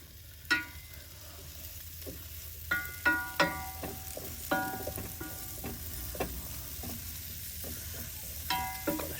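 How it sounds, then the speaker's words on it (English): Chorizo fries in a pan at an outdoor cooking setup, a steady close sizzle broken by sharp metallic taps and scrapes of a utensil stirring, without any talking. "Got this chorizo going."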